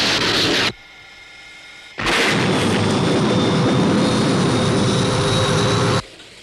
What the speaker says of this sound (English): Paul, there's another aircraft